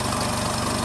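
A Satoh S650G compact tractor engine runs at idle, a loud, close, rapid chugging pulse that stays even throughout with no talking.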